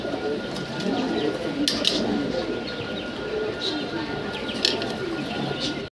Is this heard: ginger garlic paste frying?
no